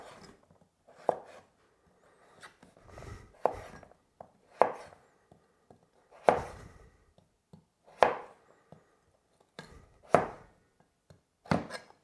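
Knife chopping through squash on a cutting board, about eight firm thunks at a slow, fairly steady rhythm, close and distinct with quiet gaps between them.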